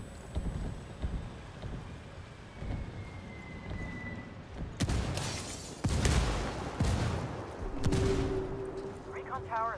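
Mortar rounds striking during a firefight in Ghost Recon Wildlands, heard as sharp, heavy impacts and blasts in the second half, following a stretch of rumbling background with faint speech underneath.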